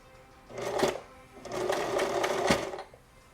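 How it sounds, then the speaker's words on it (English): Domestic sewing machine stitching a button in place with the presser foot, two loud bursts of rapid mechanical needle chatter with a short pause between, close up and without voices. "now I'm gonna use the presser foot to sew a bunch"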